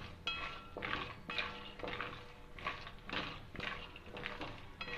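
Cashews and almonds being stirred and roasted on low flame in a pan for gond laddus, with a spoon scraping and clinking against the metal in repeated, rhythmic strokes, close and fairly quiet.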